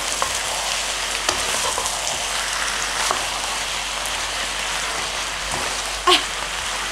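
Chicken with baked beans sizzling in a frying pan as it is stirred, a steady loud hiss with occasional soft scrapes and a brief knock near the end.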